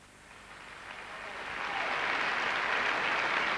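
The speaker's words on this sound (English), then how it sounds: "we're applauding the tape technician now" Eurovision Song Contest 1990 audience applause in a large hall in Zagreb, a broad hiss of clapping that swells over the first two seconds and then holds steady and loud.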